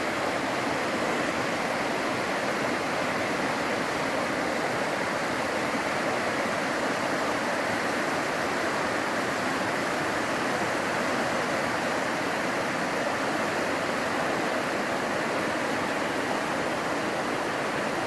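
The Cispus River rushing past a campsite, a loud, steady broadband roar of flowing water with no pauses or voices, close and constant from start to finish.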